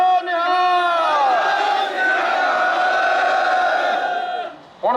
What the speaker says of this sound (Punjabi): ਬੁਲਾ ਦਿਓ ਜਕਾਰਾ ਇੱਕ ਹੋਰ ਬੋਲੇ ਸੋ ਨਿਹਾਲ ਦਾ, ਬੋਲੇ ਸੋ ਨਿਹਾਲ